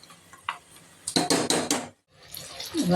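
Water splashes and pours into a metal pot of chicken kurma in short bursts, with a brief pause before more sloshing and a clank of cookware.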